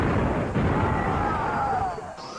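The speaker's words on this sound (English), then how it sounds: "The splash damage from firing the main cannon will annihilate almost anything, including your own units" Death Star main cannon firing in a video game, a loud sustained blast of explosion rumble with a sweeping whine that fades after about two seconds.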